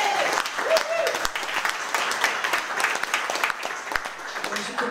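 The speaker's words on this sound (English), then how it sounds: "Give her a round of applause," A live music audience at a gig claps in sustained, dense applause, mid-distance and steady, with a voice speaking briefly at the start.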